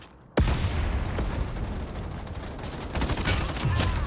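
Gunfire erupts in the online shooter Battle Teams 2 with a sudden loud burst followed by rapid, dense shots and echoing blasts, intensifying again near the end.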